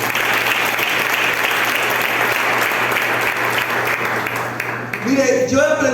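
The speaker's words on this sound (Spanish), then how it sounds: "Un aplauso al Señor entonces." A church congregation breaks into loud, sustained applause during a lively worship service, dense clapping that fades near the end as a voice begins speaking.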